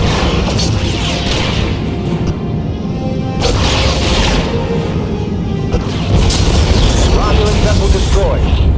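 A Romulan starship blows up in a Star Trek space-combat game, a sustained rumbling blast with crashing bursts and a swell near the end, layered under game voices and dense effects.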